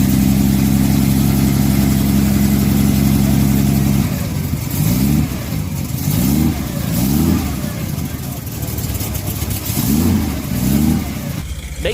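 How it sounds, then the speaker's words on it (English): A 702 cubic inch V12 gasoline engine with two distributors and a forged steel crankshaft runs loud and close, first holding a steady low drone, then rising and falling through slow revs in a repeated pattern. "V12 engine that displaces a whopping 702 cubic inches"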